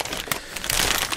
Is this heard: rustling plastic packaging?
yes